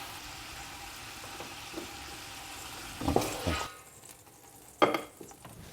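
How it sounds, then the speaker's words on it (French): Pieces of meat brown in a pot for couscous, giving a steady background sizzle broken by a few sharp clanks and scrapes of a utensil stirring and turning the pieces. "je vais les remplacer par les autres morceaux qui restent à faire revenir"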